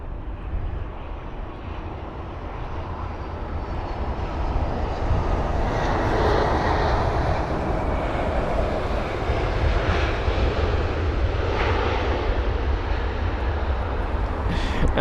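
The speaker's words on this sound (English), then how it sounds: "It's what looks to be baby steps for that landing. That Airbus A319, flight number BA813 from Copenhagen" A British Airways Airbus A319 lands at London Heathrow after a flight from Copenhagen, its jet engine roar rising and holding as a loud, broad, continuous rumble and whine across the whole stretch, with no talk over it.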